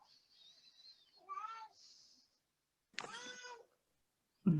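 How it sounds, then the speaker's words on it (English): House cat meowing, several separate cries of varying pitch with short pauses between, fairly faint in an otherwise quiet room, ending in a soft thump. "I can hear your cat."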